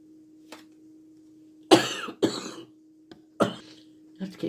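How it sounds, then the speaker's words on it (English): Several sharp coughs and throat-clearing bursts, irregularly spaced, close and loud against a faint steady hum. "I have to keep pausing, sorry, because I keep coughing"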